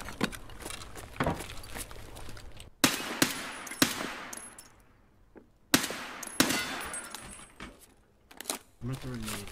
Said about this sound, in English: he was just shooting aimlessly